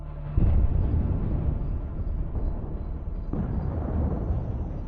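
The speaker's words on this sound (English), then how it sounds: "Ukrainian artillery opens fire." Artillery shells burst near a line of lightly armored infantry vehicles in open terrain, heard as two deep, distant booming blasts with rumbling decay between them.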